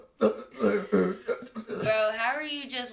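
Someone clears his throat and coughs during a live TV interview, a few close, harsh bursts followed by a drawn-out rasping sound.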